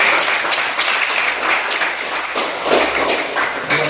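High-school class applauding a student's question during a group discussion lesson, a dense, steady patter of many hands clapping close by for several seconds.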